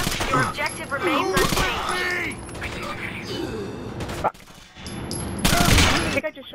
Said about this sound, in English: I think I just shot the hostage.